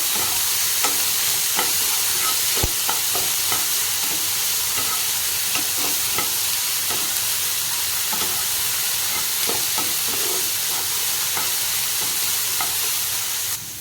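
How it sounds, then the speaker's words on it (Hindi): Chopped onion and capsicum fry in a pan, a loud, continuous sizzle with frequent clicks and scrapes of stirring, steady from start to finish. "एका संगे पियाज और कैप्सिकम को आम देकी फ्राए करदबा।"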